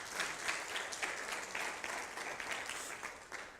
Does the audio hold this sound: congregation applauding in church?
yes